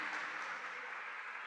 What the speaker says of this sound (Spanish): Démosle un aplauso al Señor por ello.